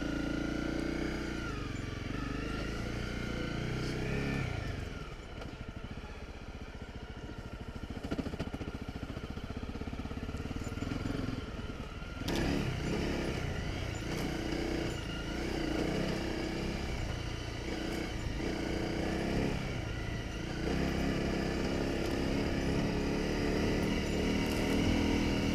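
Honda CRF250 Rally motorcycle riding steadily in second gear on an adventure track, a close, continuous single-cylinder engine drone with slight rises and dips in throttle and wind noise, no talking.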